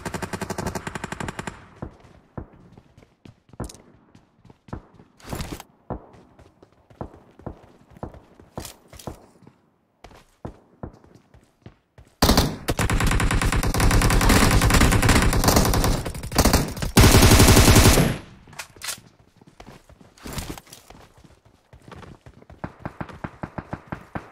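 Rapid automatic gunfire in PUBG Mobile, loud close bursts and scattered single shots, with a long sustained volley in the middle, no talk.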